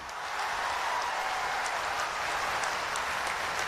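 Steady, sustained applause from a large audience fills the space at the inauguration of a newly built stadium and auditorium in Gorakhpur, even and dense throughout with no speech over it.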